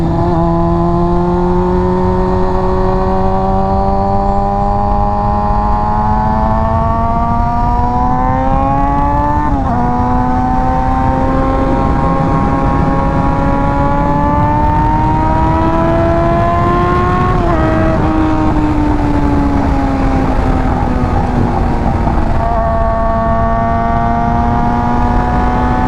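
Honda F4i motorcycle fitted with a Radiant Cycles Shorty GP exhaust, riding with a loud, continuous high-pitched engine whine that climbs and drops through several downshifts, heard close and without talk.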